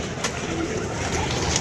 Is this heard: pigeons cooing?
yes